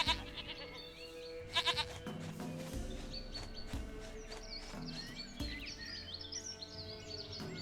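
Goats bleat repeatedly in The Witcher III, several nasal cries sounding close and loud over a steady bed of game ambience and music, with a few bursts standing out early on.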